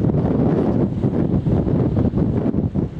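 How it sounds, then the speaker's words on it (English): Strong coastal wind blusters across the microphone along a concrete seawall walk at about 20 knots, a loud, continuous roar with gusting swells throughout and no voices. "Wind's picked up now, probably reaching its max 20 knots as forecast"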